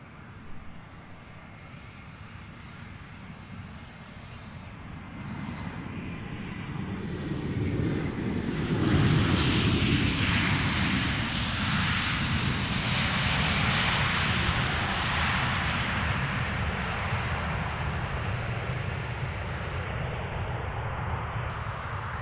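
An airplane arriving at London Luton Airport approaches from a distance, its engine roar rising to a loud broad rush at mid-clip and staying strong as it passes, with some wind buffeting.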